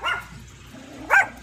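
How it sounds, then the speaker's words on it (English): Small dog barking indoors, two sharp yaps about a second apart, close and clear with quiet low rumble between them. "That's my dog."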